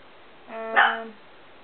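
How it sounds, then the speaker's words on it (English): A dog barks once in the background of a room, a single short, moderately loud bark standing alone in otherwise quiet surroundings. "Excuse my dog barking for absolutely no reason in the background."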